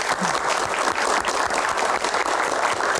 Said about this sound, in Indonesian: Tepuk tangan, terima kasih.